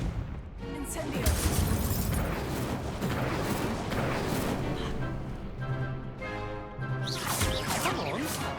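Spell blasts from the Incendio and Confringo charms in Hogwarts Legacy come as repeated crashing, booming bursts with sharp attacks. A voice shouts the spell names over the combat noise.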